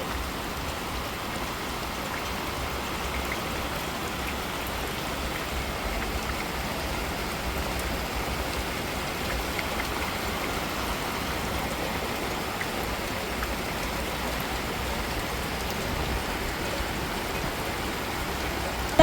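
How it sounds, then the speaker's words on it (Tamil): Dense, even downpour of heavy rain, a constant hissing roar of water on surfaces that continues unbroken with no voices. "நல்ல மழை அடிச்சு ஊத்திக்கிட்டு இருக்குங்க இப்பதான் தான் மழை ஊற்றுது"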